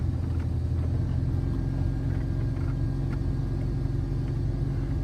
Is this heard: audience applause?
no